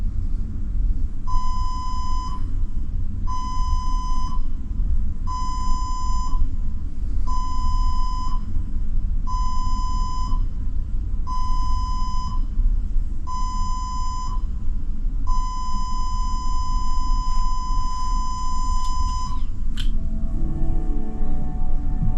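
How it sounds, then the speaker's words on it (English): A general emergency alarm demonstration aboard the Iona cruise ship: seven evenly spaced short electronic tones followed by one long sustained blast, loud over a low engine rumble. "you'll hear the general emergency signal, 7 short and 1 long blast on the ship's whistle and alarm system"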